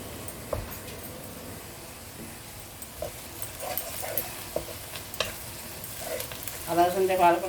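Ginger and garlic paste fries in a pan with a steady, soft sizzle, broken by scattered stirring scrapes and taps, and a short whining sound near the end.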